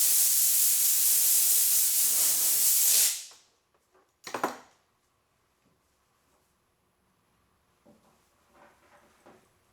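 A wet rag pressed to hot bodywork on a 1976 car gives a loud, steady hiss of steam for about three seconds, then cuts off, followed by a short second hiss and faint handling noises.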